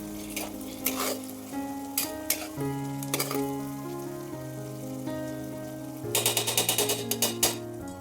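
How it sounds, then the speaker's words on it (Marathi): Onion, tomato and chili fry in oil with a constant soft sizzle, punctuated by bursts of scraping stirring, all under a layer of melodic background music. "कांदा टोमॅटो मिरची छान तेलामध्ये आपली आता परतून झालेली आहे"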